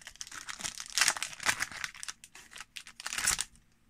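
Pokémon Champion's Path booster pack wrapper crinkling as it is torn open, a close, quiet run of sharp crackly rustles in uneven bursts.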